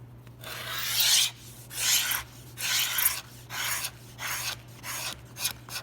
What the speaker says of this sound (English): now it's totally dry and it scrapes really nice